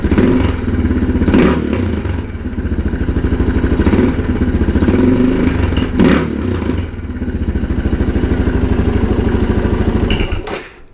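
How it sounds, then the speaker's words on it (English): Suzuki DR650 single-cylinder motorcycle with the exhaust restrictor fitted, idling with a steady thumping exhaust note and revved twice in short blips, recorded close up and loud with no talking. "I like the exhaust note that it has with the restrictor in"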